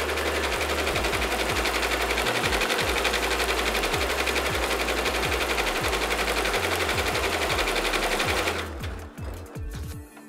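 An embroidery machine stitches on sherpa fabric with a loud, fast, continuous mechanical chatter and periodic thumps, close and steady until it halts near the end, leaving a few faint clicks.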